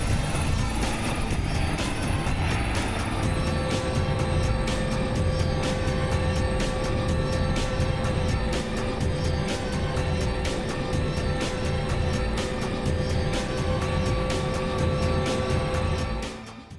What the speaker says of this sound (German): Der 7-Tonnen schwere Helikopter fliegt vom aargauischen Frick ins Wattland.